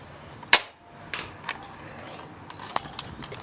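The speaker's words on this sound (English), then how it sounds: "I shoot two bullets." A Nerf Retaliator or Roughcut blaster firing foam darts. There is one sharp loud snap up close, followed by a few fainter clicks and pops from the mechanism.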